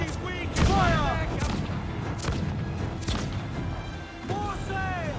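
Ship cannons boom repeatedly in a naval battle in Assassin's Creed Black Flag, heavy thuds layered under shouted orders and a swelling musical score.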